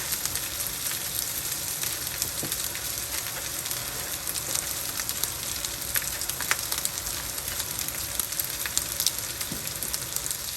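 Rice for Guyanese-style shrimp fried rice frying in a pan, a dense continuous crackling sizzle with scattered small pops, even and close throughout with no talking.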